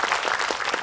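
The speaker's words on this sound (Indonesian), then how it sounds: "Tepuk tangan dulu dong buat Mas Ipo." An audience claps in a steady burst of applause in a studio at an Islamic religious talk show, dense and even across the short moment, with no voices.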